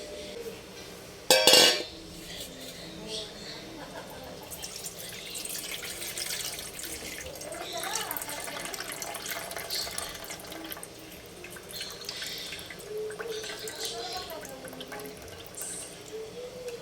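Soaked rice, two cups soaked for six hours, is drained while water runs and trickles steadily at a sink, with a brief clatter near the start and soft splashing throughout at close range.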